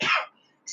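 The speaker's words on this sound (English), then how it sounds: "I'm also letting out the sound in the form of a cough" A single short, close cough bursts out sharply and stops, followed by near silence.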